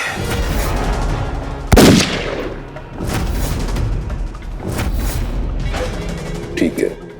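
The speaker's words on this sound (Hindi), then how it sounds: "पार्टी में गोली चल गई।" A single sharp gunshot cracks out loudly at a party scene in a TV drama, followed by a rumbling aftermath, with dramatic music and voices around it.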